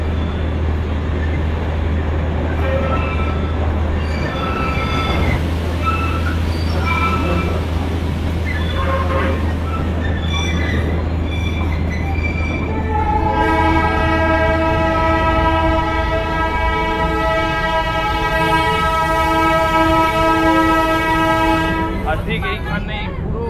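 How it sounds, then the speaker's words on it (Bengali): A Darjeeling toy train passes along the middle of a mountain road, its horn sounding in a long sustained blast over a steady engine rumble and traffic noise. "টয় ট্রেন পেরিয়ে যাচ্ছে এই মাঝ রাস্তা দিয়ে, আর আজ নিজেই সেই মুহূর্তের সাক্ষী"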